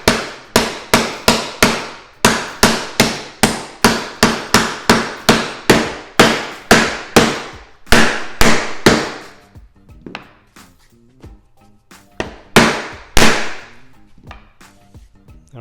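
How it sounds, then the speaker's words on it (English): A small rubber mallet taps a wooden inlay down into a routed MDF recess, a long run of sharp, evenly spaced close knocks that slows to a few scattered, quieter taps near the end. "just take a little rubber mallet,"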